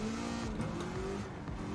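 A 1000bhp engine-swapped Jeep in Gran Turismo 7 roars down a racetrack's main straight, its engine note rising steadily and faint under busy track noise.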